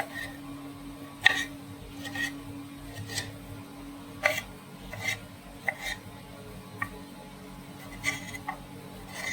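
Two tomatoes are finely chopped with a knife, sharp board taps landing in an irregular series of separate strikes, close and clear over a faint steady hum.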